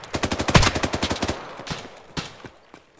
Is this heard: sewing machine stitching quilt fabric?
no